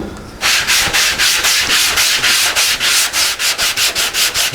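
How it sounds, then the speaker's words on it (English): 80-grit sandpaper on a mud flat sanding block rasps across a surface in quick, regular back-and-forth strokes, loud and close, beginning abruptly after a moment of quieter background. "just to rough it off a little bit with the 80 grit, cut it down real quick and lightly with the old mud flat block"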